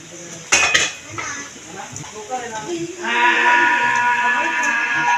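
A metal cooking pot is handled and set down, with a sharp clank followed by lighter clatters of pots and utensils while people talk. A bleating, sheep-like animal cry rises near the end.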